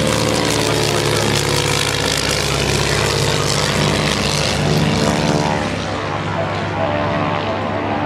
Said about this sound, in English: The Stinson L5 taking off now